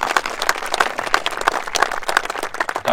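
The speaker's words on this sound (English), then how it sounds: "So if we can give them all a round of applause." An audience claps in a continuous burst of applause, dense and steady hand claps filling the room throughout, with no clear speech.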